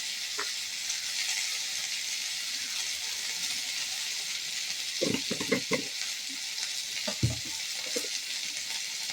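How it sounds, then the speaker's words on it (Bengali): Vegetable stems and potato pieces frying in a pan give a continuous faint hiss, with a few short clusters of stirring knocks toward the end. "ডাঁটা আলুটা দিয়ে আমি একটু নাড়াচাড়া করে দিয়ে দেবো নুন"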